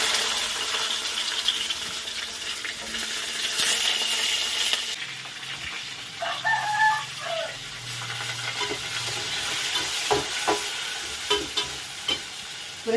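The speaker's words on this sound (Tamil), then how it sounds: "இப்போ இது கூட வந்து ரெண்டு வெங்காயம் கட் பண்ணி வச்சுருக்கேன் வெங்காயம் சேர்த்துடலாம்" Onions are frying in a pan for a fish curry, giving a steady bright sizzling hiss with occasional stirring clinks and scrapes, heard close in a home kitchen.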